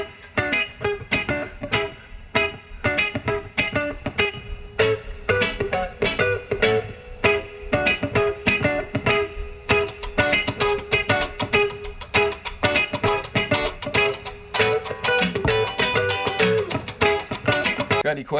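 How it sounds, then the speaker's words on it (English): Two guitar parts layered in a multitrack mix, an offbeat skank and a chicken-picking rhythm line, giving dense, snappy plucked notes in a steady groove, loud and close throughout with no talking. "here's the two guitar parts together, the skank and the chicken picking rhythm guitar part."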